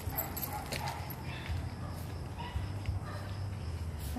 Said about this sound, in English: So when the dogs just started crying and barking